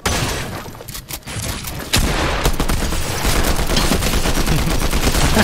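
Combat Assault Rifle fire in Fortnite, loud rapid bursts of gunshots, a brief lull near two seconds, then sustained dense firing with game effects layered throughout.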